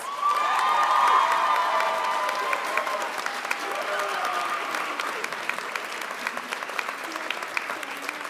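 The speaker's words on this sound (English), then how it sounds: "Let's give Kenna a round of applause." Applause and cheering fill a nursing convocation hall at WSU Spokane, starting with a loud burst of clapping and whoops that gradually thins into scattered claps.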